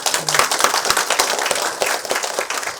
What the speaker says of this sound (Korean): 우리 아이들을 위해서 박수 한번 좀 칠까요?